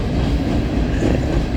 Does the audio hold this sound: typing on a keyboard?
no